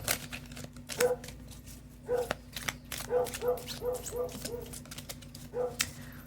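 A dog gives repeated short barks and yips mixed with whimpers, a run of quick bursts in uneven rhythm over a constant low hum and background music.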